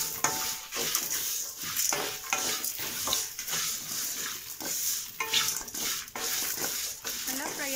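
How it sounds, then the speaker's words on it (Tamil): Onion, ginger and garlic fry in a pan for mutton curry with a close sizzle under repeated scraping strokes of a spoon against the metal and occasional clinks. "நல்லா வதக்கிக்கலாம்."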